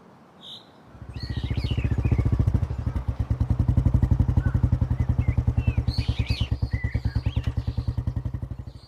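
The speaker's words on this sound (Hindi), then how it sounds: "यहां बाइक क्यों रोकी?" A motorcycle engine pulses in a steady, fast, loud thump after starting up, its rhythm rolling on as the bike slows, with faint bird chirps above.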